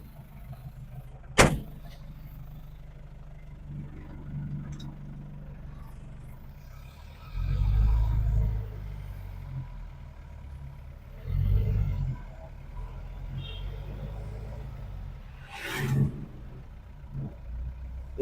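An old vehicle with no power steering or power brakes heads out to a farm, its engine a low steady rumble with heavier surges and a sharp knock or two.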